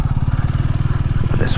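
A Honda Rebel 300 motorcycle on a ride, its engine giving a steady, loud low rumble with even pulsing throughout, close to the listener.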